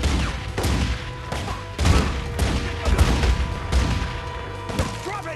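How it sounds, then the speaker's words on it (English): Repeated gunfire in The Godfather 2, sharp shots and bursts landing every half second or so over a steady rumble of game ambience. "Who the hell is shooting me?"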